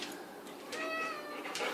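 A house cat meows several times in a kitchen, short close-up calls that rise and fall, the second one longer and clearer, with brief quiet gaps between them and no talking.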